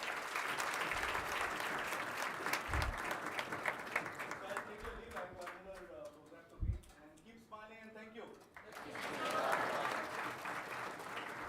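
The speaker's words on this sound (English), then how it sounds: "Please give him a big round of applause." Applause from an audience at a school of pharmacy induction program, a sustained broad patter running throughout with voices and crowd noise mixed in, swelling again near the end.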